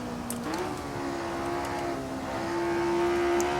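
Simulated racing car engine in Assetto Corsa, a steady high-pitched drone that climbs in pitch early on and holds near full throttle, loud and continuous throughout with a faint voice low underneath.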